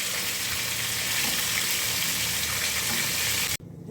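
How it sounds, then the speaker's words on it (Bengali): Drumstick flower fritters fry in hot oil with a dense, loud, continuous sizzle that cuts off abruptly just before the end, leaving quiet room tone. "একে একে দিয়ে ভেজে নিচ্ছি"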